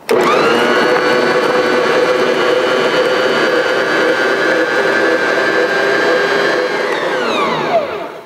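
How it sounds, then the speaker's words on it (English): Electric hand mixer whipping cauliflower and potatoes into a mash, a loud steady motor whine held for about eight seconds at close range before winding down at the end. "Now I'm going to turn on my mixer, and I'm going to slowly add my milk blend."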